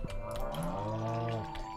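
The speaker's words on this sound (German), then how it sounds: "Viel zu viel Kühe mittlerweile hier." A cow in the farm game Stardew Valley gives one clear, drawn-out moo, close and fairly loud, with no talk over it.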